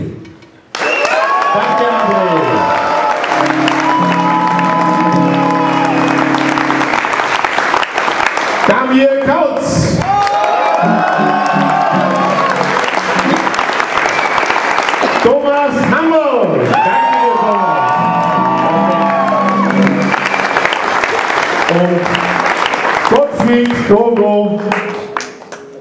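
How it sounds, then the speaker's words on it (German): A live brass folk music crowd claps and cheers for each musician, long sustained applause with whoops and shouts, broken by short quieter gaps as voices and instrument notes cut through. "bitte ich um euren Applaus für jeden Einzelnen"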